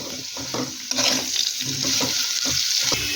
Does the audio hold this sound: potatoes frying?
yes